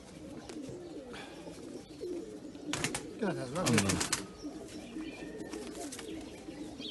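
Pigeons cooing nearby in a loft, soft repeated low coos mixed with wing flaps and shuffling, while someone talks and calls out over them.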